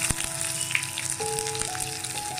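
Finely chopped small onions fry in hot oil with mustard seeds and urad dal for a Madurai-style roasted gram chutney, a steady close sizzle with light crackling and no speech.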